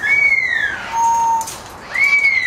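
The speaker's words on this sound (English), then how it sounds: "We got one whistling over there." A blue parrot whistling nearby, clear sliding tonal whistles that fall, hold a steady note, then rise again in a short loud sequence.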